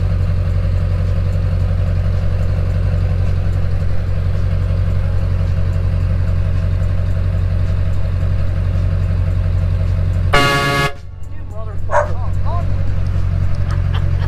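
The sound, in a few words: train horn on a truck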